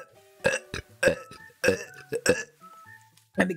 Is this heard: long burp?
yes